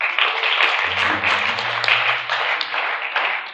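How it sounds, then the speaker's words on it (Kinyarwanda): A church congregation claps steadily for several seconds, a dense, even applause with a faint low hum running underneath. "Komere Imana amashyi."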